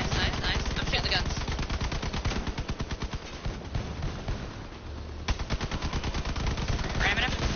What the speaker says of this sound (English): I'm shooting the guns.